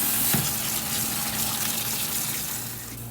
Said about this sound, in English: make sure you give them a good rinse